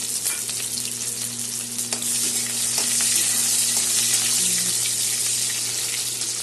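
Chopped onion drops into hot oil already holding bay leaves, whole cumin seeds, a dried red chilli and a pinch of salt, giving a loud, steady, close sizzle throughout with no talking.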